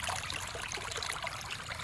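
Clear water trickles and burbles along a small stream, a soft continuous babble close by, quiet and with no voices.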